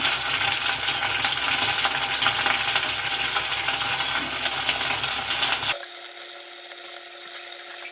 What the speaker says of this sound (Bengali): গ্যাসের ফ্লেম মিডিয়ামে রেখে চিকেনগুলো এখানে ভেজে নেব।